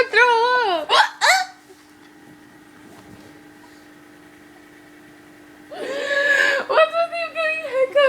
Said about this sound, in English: you've been getting hiccups a lot today